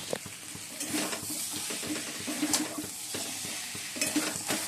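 Potatoes sautéing in a pan, with a steady close sizzle of frying under repeated scraping and stirring strokes and light clinks of utensil on metal, no voices.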